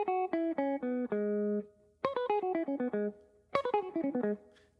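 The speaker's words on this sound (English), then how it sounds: "there was a fast little pentatonic run I did," A guitar plays a quick descending minor pentatonic run three times: root, flat seven, five, four, flat three, one, flat seven, five. The notes are crisp and plucked, clearly separated and in a brisk rhythm, with no voices.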